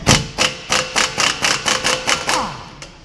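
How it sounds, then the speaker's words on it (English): Impact gun rattling off a tight 24 mm ball joint stud nut, a fast series of about ten loud, evenly spaced hammering bursts close by, ending in a winding-down whir. "I'm gonna put that on my impact gun."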